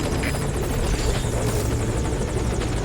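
A helicopter in Metal Gear Solid V hovers at a landing zone, its loud rotor chop and engine whine droning steadily and close throughout, with no voices.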